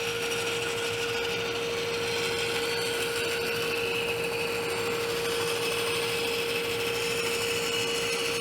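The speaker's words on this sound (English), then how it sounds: "I will be cutting these out on the bandsaw" A bandsaw cuts small wood pieces with a steady, even whine and grinding rasp that holds constant throughout, close and fairly loud, with no speech.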